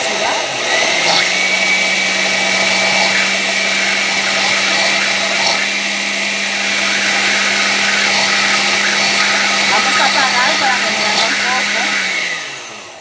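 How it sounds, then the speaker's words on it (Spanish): A blender blending tartar sauce runs steadily for about ten seconds with a constant motor whir and churning, then cuts off near the end. "Entonces prendemos nuestra licuadora."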